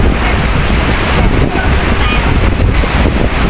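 Strong wind gusts outdoors in front of a mall in the Philippines, roaring steadily into the microphone with broad, continuous rumble and no talk.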